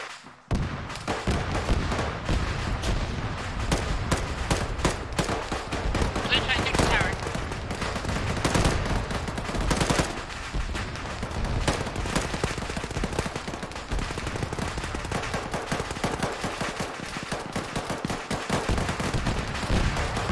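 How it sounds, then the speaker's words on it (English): Sustained gunfire in a squad-based shooter video game, dense bursts of machine gun fire and explosions rolling continuously at loud, steady intensity, with voices calling out over the battle. "Got machine gun on your right."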